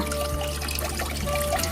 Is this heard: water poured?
yes